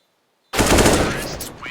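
Sudden loud burst of rifle fire in Counter-Strike: Global Offensive during a competitive match, a rapid rattling volley after silence that decays over about a second.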